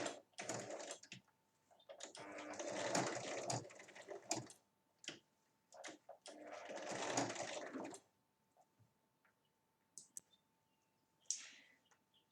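A sewing machine stitches the flap of a small fabric bag in two close bursts of rapid, even running, followed by sparse handling clicks and quiet gaps.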